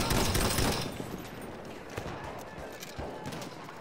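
Rapid gunfire from a weapon in Battlefield 1: a loud burst of shots at the start, then scattered sharper reports and distant battle noise, fairly busy throughout.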